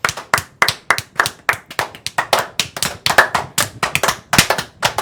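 A small group claps steadily after a board game win at the table, with a dense, even patter of close hand claps lasting several seconds and no voices.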